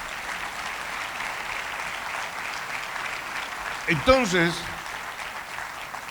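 Church congregation clapping in praise during a Spanish-language sermon by a pastor, a broad steady wash of applause with a voice breaking in briefly near the end.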